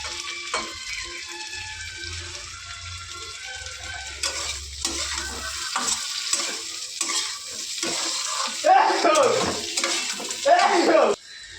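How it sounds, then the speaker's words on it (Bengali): Chopped vegetables and grated ginger fry in oil in a pan, with gentle sizzling and repeated spatula stirring and scraping that grow louder and busier toward the end. "গ্রেট করে রাখা আদাটা দিয়ে ভালো করে ভেজে নিয়েছি"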